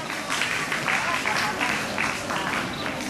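Audience applause at the opening of a National Children's Day event at a university faculty of cultural sciences, a steady wash of clapping from a crowd lasting a few seconds.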